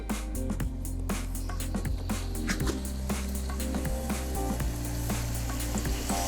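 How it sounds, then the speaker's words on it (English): Steady crackling sizzle from a sirloin steak in a hot oiled pan, with bursts of popping, plus low rumbling and occasional clatter of handling, close up. "the pan is really hot"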